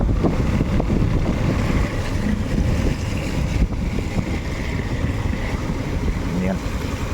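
Heavy typhoon rain from Typhoon Karina pours down with gusting wind during flooding in the Makati area, a dense, steady roar with buffeting wind against the microphone throughout.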